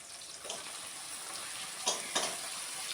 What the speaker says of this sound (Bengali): পেঁয়াজ কুচি দিয়ে দিয়েছি তেলের মধ্যে